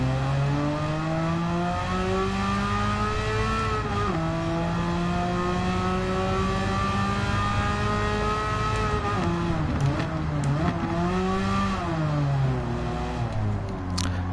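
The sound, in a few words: car engine revving in Gran Turismo 7 video game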